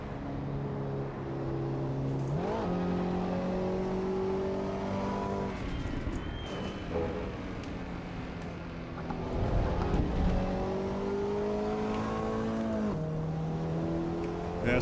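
A race car engine in the racing game Assetto Corsa EVO climbs through the revs, drops on a shift and climbs again in repeated rising pulls. The engine is loud and steady with no talk.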